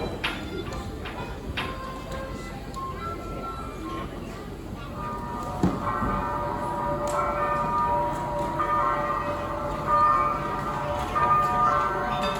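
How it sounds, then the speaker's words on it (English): Church bells ring in the evening on the eve of Easter, a steady peal of overlapping strokes that sounds distant and reverberant over a low outdoor background. "Like an echo, we hear the glorious evening bells as they summon us to Easter services tomorrow morning"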